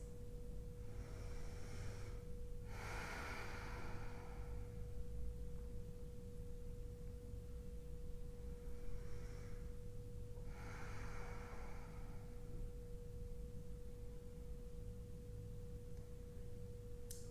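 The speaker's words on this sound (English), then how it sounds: "Breathing deep here." Slow, deep breathing during a yoga class held in pigeon pose: two long inhale-exhale cycles, soft and close, over a faint steady hum.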